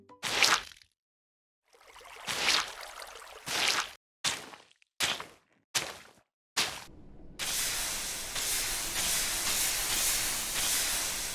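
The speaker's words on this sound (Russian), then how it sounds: "Мне очень нравится звук, когда губка впитывает воду, а также звук просто мокрой губки." Wet, squishy hissing bursts from a sponge block in Minecraft: several short separate splashes, then a longer sustained watery hiss as the sponge absorbs water, with no speech.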